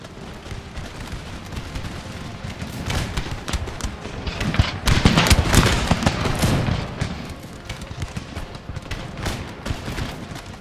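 Musket volleys and cannon fire in Empire Total War during a land battle on Martinique, dense crackling fusillades and booming shots layered over one another, building to a loud peak midway and then continuing steadily.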